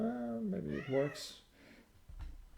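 House cat meowing close by in a room, a couple of short rising mews followed by quieter rustling, with a person speaking briefly over it.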